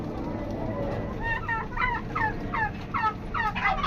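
Turkeys gobble repeatedly in fast, warbling bursts over a steady farmyard background of other fowl, fairly close and loud.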